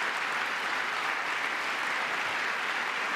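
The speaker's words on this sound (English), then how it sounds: "Oh, a Democrat clap." A packed audience at a Trump address breaks into applause, an even, unbroken wash of many hands clapping at full volume with no pauses.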